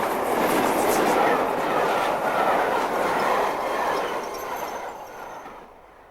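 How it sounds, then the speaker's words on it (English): Train roaring past on a British railway line, a loud close rush with rhythmic wheel clatter that gradually fades away as it recedes into the distance. "And then the man on the panel heard the train go by, and Brian was dead."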